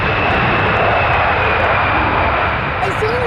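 A small plane's engine at Stansted Airport, a loud, steady droning roar close by that holds throughout, with people talking over it.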